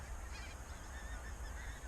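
Many pink-footed geese honking together on a frosty morning in a dense, continuous chorus, steady and somewhat distant, with no voices over it.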